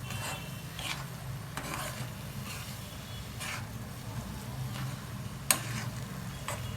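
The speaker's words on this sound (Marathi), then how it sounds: "तो काही चांगलं मिक्स करून घ्यायचं." Grated paneer being stirred in a pan for paneer bhurji: soft scraping strokes repeat at a steady pace over a faint low sizzle, with one brief sharp clink of utensil against pan, quiet and close.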